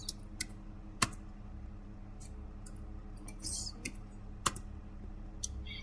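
Quiet keystrokes on a computer keyboard entering a Linux command, sparse isolated taps with a couple of sharper clicks and a brief cluster of keys, faint and close in an otherwise hushed room.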